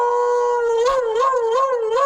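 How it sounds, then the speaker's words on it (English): An Alaskan Malamute howls in a long, wavering, tonal call that rises and dips, loud and close, with no talk over it. "sent us this video of an Alaskan Malamute on the Brock and Dalby Instagram page"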